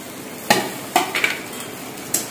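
Tomatoes frying in a pan with browned ingredients for a chickpea dish, stirred with a utensil that scrapes and knocks against the pan in a few sharp strokes over a soft background sizzle.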